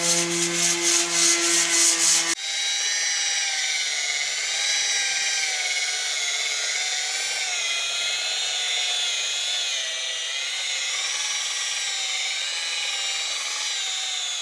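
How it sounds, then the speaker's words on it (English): A mechanical sander grinds across a sailboat hull hauled out of the water, a loud, continuous high whirring rasp preceded by a brief pulsing start. "So Kevin and Andrew sanded it using a mechanical sander"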